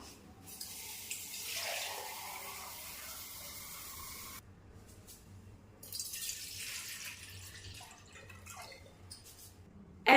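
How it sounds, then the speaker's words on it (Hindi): Clean water poured into a kalash pot for a home puja, a steady splashing trickle lasting several seconds with a short break partway through and a brief louder knock at the end. "इसके बाद हम चारों जो है कलश है उसमें हम जल भर देंगे।"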